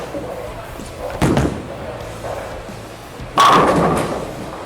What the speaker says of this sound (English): Really like how that's going through the pins.